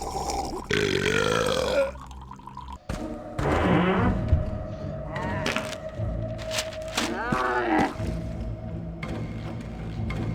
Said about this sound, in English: Drink enough from the fountain and I think you burp?